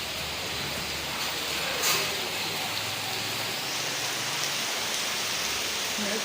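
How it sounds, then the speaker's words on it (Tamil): Heavy rain pours down steadily during a storm over Chennai, a dense, even hiss of close downpour that fills the whole stretch without pause. "பத பத பத பதன்னு கொட்டுது"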